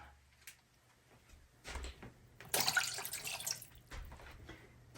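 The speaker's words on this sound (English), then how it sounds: "add water. Maybe a couple of glasses of water" Water poured from a glass into a roasting pan holding a ham: a brief splashing gush of a second or so, with soft clinks and drips before and after, close and quiet.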